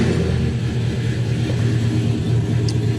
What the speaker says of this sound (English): So if we start the car,